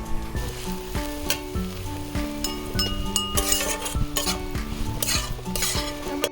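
Chaichi wild greens cook in a pan, with soft sizzling and frying under repeated clinks and scrapes of a utensil stirring against the pan, close and moderately loud, no talking.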